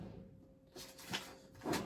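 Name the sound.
Alex drawer unit being opened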